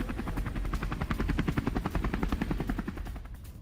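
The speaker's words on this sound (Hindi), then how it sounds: "ये देखिए हेलीकॉप्टर जो आपको दिख रहा है, ये पाकिस्तान का है।" A Pakistani military helicopter's rotor thuds in a steady rapid rhythm, loud and close, with a heavy low engine drone beneath the beating blades.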